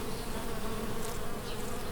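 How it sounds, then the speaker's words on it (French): Bees buzz steadily and close by, a dense continuous hum of many insects with no voices over it. "Oui, j'aime les abeilles."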